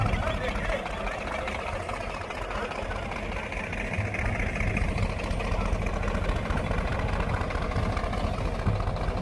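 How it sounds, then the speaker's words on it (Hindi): A Sonalika tractor with no driver and no throttle applied pulls a 6-foot rotavator across a field, its engine giving a steady low drone with churning soil beneath, continuous and close throughout. "ट्रैक्टर खुद रोटावेटर 6 फीट का लेके चल रहा है।"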